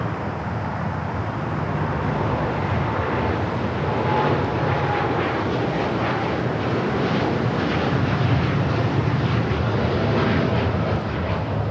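An American Airlines Boeing 787-9 Dreamliner takes off from LAX in Los Angeles, a sustained jet roar that swells slightly toward the end, mixed with faint wind buffeting and no talking.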